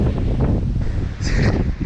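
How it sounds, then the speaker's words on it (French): Strong wind buffets the microphone with a constant low roar and rumble, gusting throughout, with a faint higher sound briefly breaking through. "et il y a énormément de vent"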